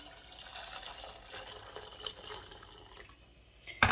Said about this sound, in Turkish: Hemen üzerine kaynar su çekiyorum.